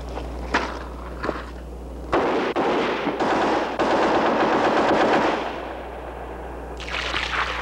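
A Heckler & Koch automatic weapon fires after a water reliability test in a 1970s live-fire demonstration: a few isolated shots, then sustained loud automatic bursts, and scattered shots trailing off near the end.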